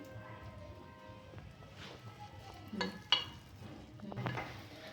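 Batter goes into an oiled pan with a soft sizzle, joined by light metallic scrapes and clinks of a utensil against the cookware, all quiet and close, with brief murmured speech.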